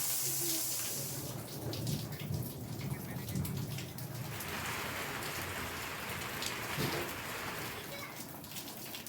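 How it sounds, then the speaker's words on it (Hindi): Heavy rain pours steadily during a stormy change of weather in Didwana, Rajasthan, a dense close hiss of drops hitting surfaces that holds fairly constant throughout, with a faint rumble of thunder underneath. "किस तरीके से मौसम में बदलाव यहाँ पर देखा गया है और तेज़ बारिश हो रही है"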